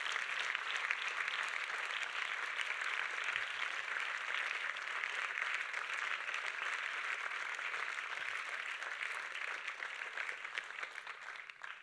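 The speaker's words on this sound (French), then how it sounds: "je crois qu'on peut les applaudir pour ce film fort" Audience applause after a film screening in a hall, a steady dense wash of many hands clapping, continuous and moderately distant with no talk over it.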